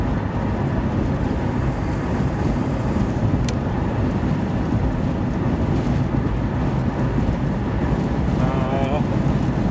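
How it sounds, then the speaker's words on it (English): Strong gust of wind buffeting an outdoor microphone, a loud, constant low rumble filling the whole stretch with no clear voice over it. "Whoa, wind gust."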